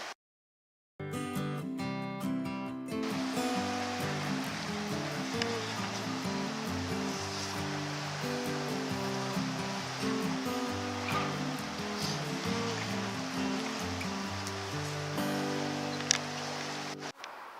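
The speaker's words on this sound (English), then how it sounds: "check out the river. There's so much flow coming down, it flooded some of the picnic areas" A river in flood rushes past with heavy flow at a park, a continuous broad wash of water noise after a brief silent start, with some steady tonal hum mixed underneath.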